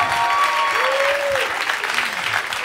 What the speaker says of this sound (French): Est-ce qu'on peut applaudir Kevin?